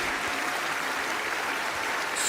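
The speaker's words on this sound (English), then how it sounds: "Stop applauding yourself." Applause from a crowded chamber during a State of the Union address, a steady wash of clapping that stays even and moderately loud throughout the short moment, with no talking over it.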